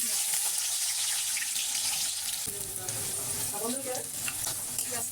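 Hot oil sizzles loudly as food browns for mutton biryani, with steady stirring and a brief splash of water, the frying hiss continuous and close.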